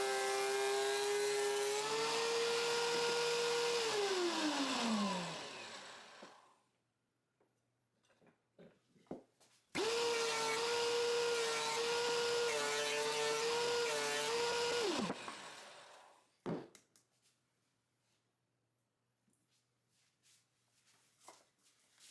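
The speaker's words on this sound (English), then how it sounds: "Lower the blade by 1/16 and run them on the other side too." A table saw cuts 2x3 lumber in two passes, each a loud whining blade run that rises into the cut, drops in pitch and winds down, with clunks and handling noises between.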